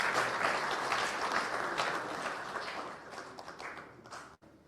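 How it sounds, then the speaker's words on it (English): An audience at a memorial lecture and luncheon in Nairobi claps for the panelists, a fairly distant, moderately loud applause that thins and fades out near the end. "Let's give them a better round of applause."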